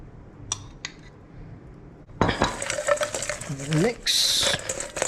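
Cajun wet rub for chicken wings being stirred in a bowl, with scraping utensil clinks and wet mixing sounds that start abruptly after a quiet stretch, loud and close.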